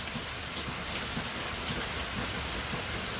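Heavy, loud rain hisses steadily and densely, with a constant roar of drops and no pauses.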